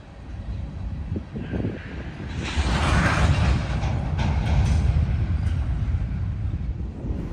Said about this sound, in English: we came across a massive manifest freight train headed westbound to Cheyenne.